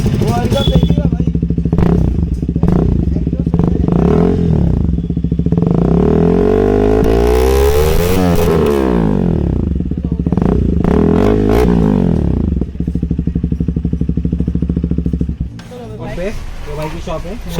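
A KTM Duke 200 motorcycle fitted with a new aftermarket exhaust revs hard and close, its engine note rising and falling in repeated throttle blips. People talk over it.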